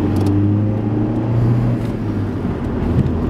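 A 1.8-litre Volkswagen Passat accelerates to merge into heavy traffic, its engine holding a steady, loud low rumble and whir from the cabin throughout, with no voices.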